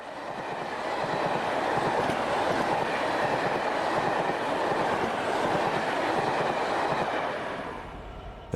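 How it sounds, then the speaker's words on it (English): A train of former South West Trains 4 Vep and 4 Sig electric units passes near Swindon on its way to scrapping, a steady loud rumble of wheels and carriages that swells, holds for several seconds, then eases slightly. "Finally comes a train of former South West trains 4 Veps and a 4 Sig, en route from Wimbledon to Caerwent for scrapping."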